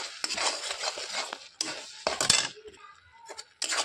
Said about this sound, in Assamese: এতিয়া লৰাই থাকিম।